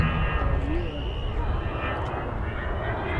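An Avro Vulcan at the Scottish Airshow 2015 gives a loud, continuous, rumbling jet roar, with a voice heard faintly under the engine noise.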